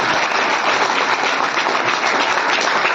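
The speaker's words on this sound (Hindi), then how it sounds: "और जोरदार ताली बजाएं।" Dense, steady applause fills a room at a birthday celebration, many hands clapping together at a loud, even level with no gaps for the full few seconds.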